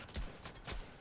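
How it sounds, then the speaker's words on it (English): Two quick shotgun blasts fire in a video game, short sharp bursts about half a second apart, fairly quiet and clipped, with no voices during the shots. "I'm going to shotgun him in the head. Okay, one shot."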